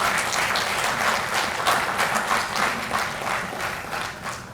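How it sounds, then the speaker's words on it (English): An audience at a university lecture claps together in sustained applause, a dense, even wash of hand claps that holds steady for a few seconds. "you give claps for this"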